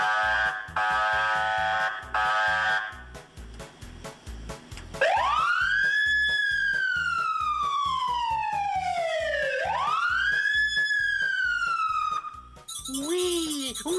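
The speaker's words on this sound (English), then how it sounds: "Let's check out the horns and the sirens." Fire truck warning sounds: a rapid electronic yelp siren and blaring horn tones, then a loud wailing siren sweeping up and down twice, ending in a short burst of a different alarm tone.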